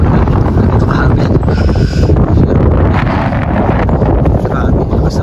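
Strong wind in Canada roars steadily, buffeting the microphone with a loud, constant rumble; faint voices may be buried beneath it.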